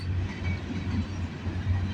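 A CN freight train passes Bronte Street in Milton, Ontario, a steady close rumble of rolling wagons with a low droning hum throughout, no voices.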